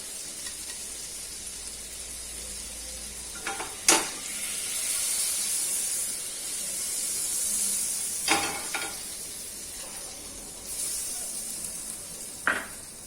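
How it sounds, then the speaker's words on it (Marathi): Ginger-garlic paste fries in melted butter in a pan, giving a steady, close sizzle with occasional sharp clinks and stirring scrapes, and no talking. "ते बटर मेल्ट झाल्यावर त्यात आपण आलं लसूण पेस्ट घालतो."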